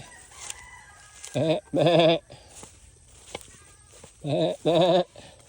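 Goats bleat in a rural farmyard near a broiler shed, with two paired bursts of wavering, nasal cries close by. Faint background noise sits between the calls.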